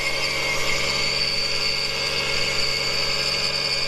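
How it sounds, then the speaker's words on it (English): A Subaru SVX sits idling while its AC compressor makes a steady whirring, droning noise with a constant mechanical hum and vibration, close and unchanging throughout, with no voices. "I'm pretty sure our AC compressor is making that noise."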